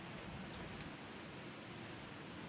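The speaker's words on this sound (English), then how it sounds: "There may be some birds chirping." Two short high bird chirps sound outdoors in the Seychelles, spaced over a couple of seconds against a soft, steady background wash, faint and without talk.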